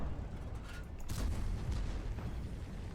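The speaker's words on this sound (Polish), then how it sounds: "te dwa strzały takie słabe w tego kołowca" Two heavy booming tank cannon shots in World of Tanks, low and thudding, close together with rumbling tails.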